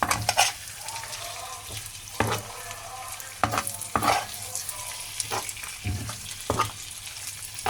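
Food fries with a constant sizzle in a pan while a utensil stirs it, bringing repeated scraping clatters every second or so close up, with no talking.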